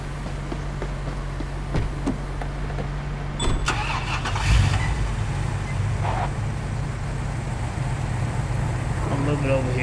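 A car engine in the Police Simulator video game starts with a sharp crank and settles into a low steady idle, a constant hum with clicks and knocks over the top, while someone talks.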